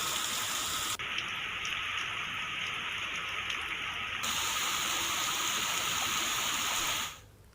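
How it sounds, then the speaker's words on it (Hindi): Heavy monsoon rain in Bihar pours down steadily in a dense, continuous hiss of drops on surfaces, loud and unbroken until it cuts off abruptly near the end. "मानसून के दस्तक के बाद देखिए कैमूर और छपरा में जोरदार बारिश हुई है।"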